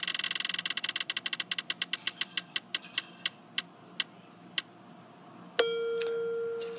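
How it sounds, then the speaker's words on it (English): A prize wheel loaded with film titles clicks rapidly past its pegs, the ticks slowing and spacing out over several seconds until it stops, followed by a sustained high electronic tone. "I'll spin this wheel, and whatever movie it stops on"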